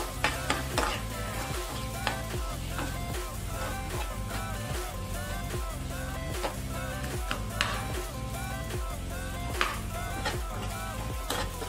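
Onions frying in a pan for tomato pachadi, sizzling steadily while a utensil stirs them in a repeating scraping rhythm, close and fairly loud throughout, with no talk.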